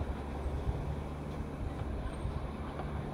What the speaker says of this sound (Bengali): UNESCO world heritage property toy train এসে গেল।